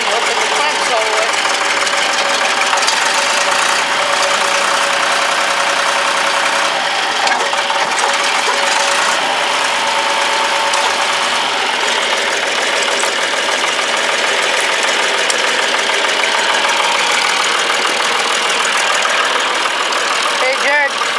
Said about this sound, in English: Hey Jared, you can take the tractor back if you want